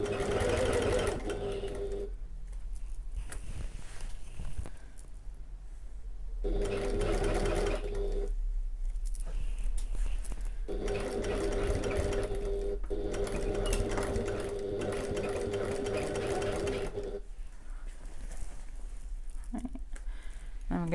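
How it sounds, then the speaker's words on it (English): A sewing machine runs a seam about 3 mm from the edge of a bag pocket, steady whirring stitching bursts broken by short pauses, close and loud. "I'm going to sew 1/8 inch or 3mm away from the edge of the pocket"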